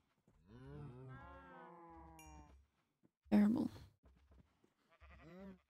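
Cows lowing in the video game Minecraft, several drawn-out moos in succession, close and clear, with a voice cutting in briefly between them.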